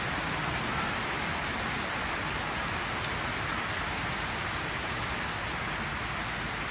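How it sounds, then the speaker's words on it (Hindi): Heavy rain pours down across a home yard, a dense, unbroken hiss of drops on surfaces that stays loud and steady throughout with no talking. "किस तरह से ये बारिश तेज़ होती है और किस तरह से ये फिर थोड़ी हल्की हो जाती है"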